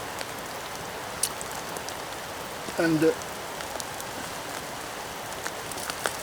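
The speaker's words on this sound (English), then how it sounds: "And now you see it's raining," Steady rain falling in a forest, a soft continuous hiss of drops pattering on leaves and ground, with one brief spoken word partway through.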